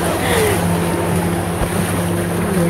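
A motorboat running on a mountain lake in Hualien, Taiwan, a steady loud engine drone mixed with wind buffeting and choppy water.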